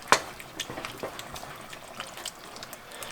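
Hungarian goulash simmers in a pot, giving soft irregular bubbling and popping with a sharper blip at the start, faint and close, with no talking.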